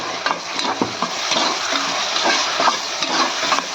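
Chopped tomato pieces hit a pan of frying onions for a bitter gourd fry, giving a lively close sizzle with scraping stirs and small wet pops, steady and without talk.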